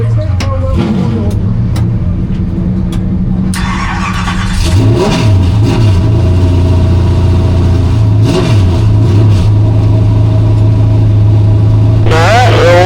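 Race car engines at Newport Speedway rev and idle loudly up close, several motors rising and falling in overlapping surges, with a voice speaking over them throughout.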